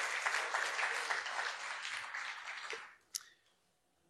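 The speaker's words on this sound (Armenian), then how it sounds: "Կարող ենք մի հատ ջիգարով ծափահարել Տիրոջ իր հոգու համար" A church congregation claps heartily during a service, broad sustained applause that fills the room and then dies away, followed by a couple of isolated sharp knocks in the quiet.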